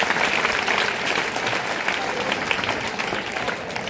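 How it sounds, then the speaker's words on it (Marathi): A school crowd applauds a headmaster at a Guru Purnima lecture, steady dense clapping filling the room throughout, close and loud with no speech. "मुख्याध्यापक Shri D G Shinde sir आलेले आहे त्यांच्यासाठी जोरदार टाळ्या वाटतात"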